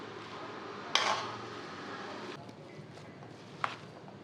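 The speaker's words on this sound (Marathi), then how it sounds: "आता हे सगळं चांगलं मिक्स करून घेऊ." Samosa filling, with lemon juice and coriander, being stirred in a bowl, giving soft scraping and shuffling under a quiet room hum, with a sharp clink of utensil on bowl near the start and another near the end.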